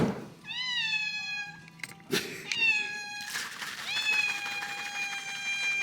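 A house cat meowing repeatedly and insistently for whipped cream, several long drawn-out meows in a row, close and clear, with a few thumps in between.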